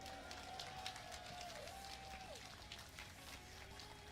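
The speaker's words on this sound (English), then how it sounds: "can I get a round of applause for the hero of Sweden" A crowd in Malmö, Sweden, applauds a home-turf player, a steady wash of clapping and cheering that holds at an even level throughout, with a thin tone gliding above it.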